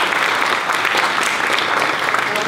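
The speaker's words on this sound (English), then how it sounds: "Give yourselves a round of applause." Audience applause in a playhouse forum setting, a dense steady wash of many hands clapping at full volume throughout, with no gaps.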